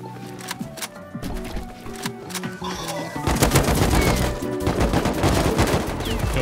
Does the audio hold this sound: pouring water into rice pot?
no